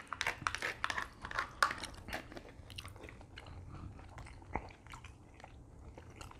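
Close, quiet bites and crunchy chewing on Dungeness crab from a seafood boil, a cluster of crackly shell crunches followed by softer, sparse chewing.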